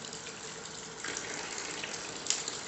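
A tap runs in a steady, close rush of water that grows slightly louder partway through, with no voices over it.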